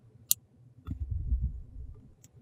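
A single crisp snip of wire cutters trimming the leftover wire tail after wrapping a loop to link beads, followed by soft handling rustle.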